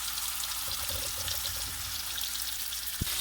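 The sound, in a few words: fish frying in hot oil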